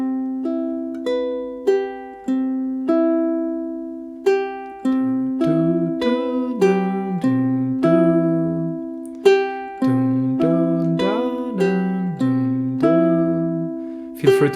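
Ukulele plucking a two-measure improvised phrase with the final note skipped, clear single notes and small chord strums ringing out in a steady rhythm, close and alone without talk.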